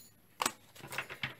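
A few quick, crisp riffling bursts of tarot cards being shuffled close by, with short pauses between them.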